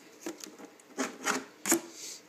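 Plastic body clips pulled off a Traxxas Summit RC truck make a few short, close rubbing scrapes and clicks in quick succession, with no talk.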